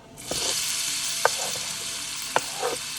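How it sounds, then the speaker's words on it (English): Chopped onions sauteing in hot oil in a pan, a continuous bright sizzle with two sharp spoon taps against the pan and light stirring, close and fairly loud, with no speech. "And in a pan, heat some oil. Add the chopped onions."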